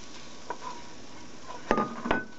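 Refried beans with softened onions and garlic in a pan, a low steady sizzle under a few sharp utensil knocks and scrapes as the mix is stirred.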